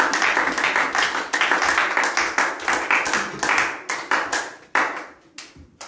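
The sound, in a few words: congregation clapping and applauding in church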